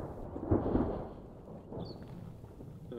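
Deep, distant rumble of glacier ice calving on Aoraki, rolling like thunder across the mountain valley, swelling briefly near the start and fading into a low continuous roar.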